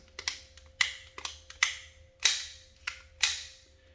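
Safety on a steel Mauser replica of the Han Solo Bespin blaster clicking into place: about seven sharp, crisp metallic clicks at uneven intervals, close and clear over a faint steady hum.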